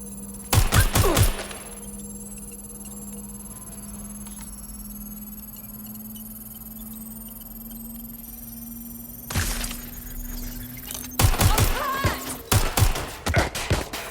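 Bursts of rapid gunfire from the video game Watch Dogs Legion, one short volley near the start and longer clustered volleys later, loud and sharp over a steady low in-game hum.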